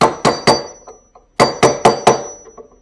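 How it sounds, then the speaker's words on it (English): A hammer strikes a metal drift to bend up tabs on an axle stub nut: three sharp, ringing metallic blows, a short pause, then four more rapid hits, close and loud with no talk. "to use a drift to stand them up"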